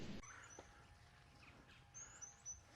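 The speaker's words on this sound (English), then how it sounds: "Sorry for the birds. They're pretty loud this morning." Birds chirp and call outdoors in the morning near a camping spot, with a woodpecker somewhere close; faint scattered high tweets sit over a steady low rumble of background noise after a brief louder opening thump.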